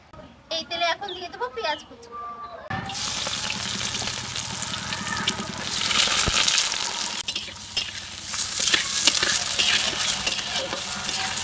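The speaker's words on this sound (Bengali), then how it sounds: "পেঁয়াজটাকে এখন ভেজে নেব" Onions frying in mustard oil in a wok for a dried loitta fish bhuna, a steady loud sizzle that starts abruptly after a few seconds of quieter sounds and carries on with stirring scrapes.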